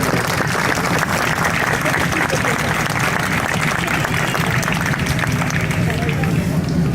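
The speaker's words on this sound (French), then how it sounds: "on peut déjà adresser des félicitations et des applaudissements aux fondeurs qui ont réussi ce travail" A crowd at a bell foundry applauds the founders who cast a bell for a hermitage, sustained dense clapping up close with murmured voices and babble running underneath.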